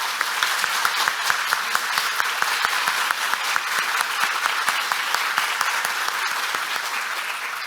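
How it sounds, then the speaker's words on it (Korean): A large lecture hall audience welcomes Fields Medal mathematician Professor June Huh on stage with a sustained, dense round of applause that stays loud and steady throughout. "뜨거운 박수로 다시 환영해 주시기 바랍니다"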